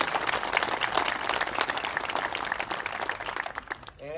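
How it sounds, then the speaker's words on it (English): An indoor audience at a visitor center dedication at Petit Jean State Park gives a sustained round of applause, with dense clapping at moderate distance that fades slightly toward the end. "Please give Stacey another round of applause just to show her appreciation"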